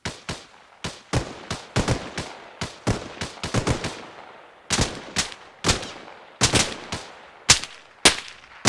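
Suppressing gunfire in a video game rings out as a steady run of loud, sharp single shots, roughly two or three per second, each with a short echoing tail and no talk over it.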